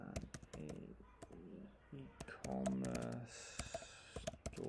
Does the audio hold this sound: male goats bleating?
no